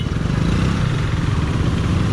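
A KTM Duke 390 motorcycle engine idles fast at close to 2000 RPM, a steady loud low chugging drone that holds constant and unbroken throughout.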